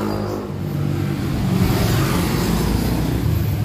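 A converted wiper motor from a Mitsubishi Adventure on a test run, a steady loud mechanical whir that holds for several seconds and builds slightly, with no talking.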